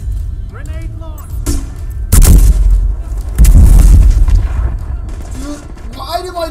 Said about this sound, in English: Grenade launch.